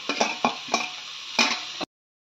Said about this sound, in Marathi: हा कांदा छान फ्राय होतो